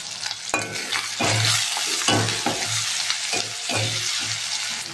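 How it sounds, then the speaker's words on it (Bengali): Onion, tomato and green chilli frying in oil with salt, a steady crackling sizzle broken by rhythmic scraping stirs of a spatula against the pan, close and fairly loud, without talk. "পেঁয়াজ, টমেটো, কাঁচা লঙ্কা দিয়ে দিয়েছি, নুন দিয়ে দেবো, দিয়ে একটু ভেজে নেবো লাল করে।"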